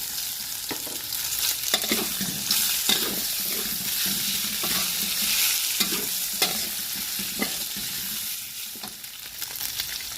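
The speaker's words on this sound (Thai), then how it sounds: "หลังจากนั้นก็ใส่ลูกชิ้นปลาลงไป" Fish balls stir-frying in a pan with fingerroot, a steady bright sizzle broken by repeated scraping strokes of the spatula, close and fairly quiet with no talking.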